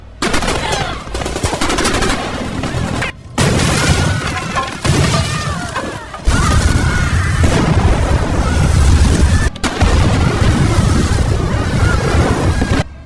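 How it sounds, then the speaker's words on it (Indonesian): Bomb explosion and sustained gunfire from a scene in the action film Shooter, a dense, loud barrage of rapid shots and crashing blasts filling the whole stretch, broken by a few brief silent cuts. "Dengan mudahnya mereka menghabisi pasukan setelah menginstruksi Nick untuk meledakkan bom yang telah mereka pasang"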